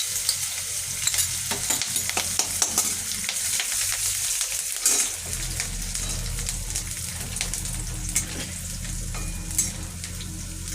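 Chopped ginger sizzles and fries in hot oil in a pan for paneer malai kofta curry, a continuous close crackle with scraping stir strokes, no talk.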